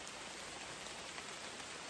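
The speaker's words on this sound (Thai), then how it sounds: "ตอนนี้ฝนตกลงมาแบบหนักมากแล้วนะ" Heavy rain pours down steadily in a tropical rainforest, an unbroken, even hiss of drops with no voices over it.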